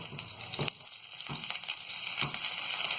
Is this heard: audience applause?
no